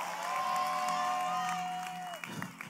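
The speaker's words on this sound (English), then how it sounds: "Oh, that's a good time to clap for Jesus. That's a good time to shout amen." A church congregation claps and cheers during a sermon, dense steady applause with whoops and a loud voice rising over the crowd, tapering off near the end.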